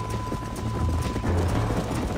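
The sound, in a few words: horse galloping in Red Dead Redemption video game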